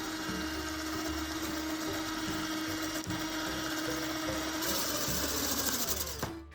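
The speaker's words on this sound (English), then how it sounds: "Now we're gonna froth up the egg whites. So you're gonna start at low and then work your way up to high." Electric mixer frothing egg whites for meringue cookies, a steady loud motor whir held throughout with a slight shift partway, then cut off at the end.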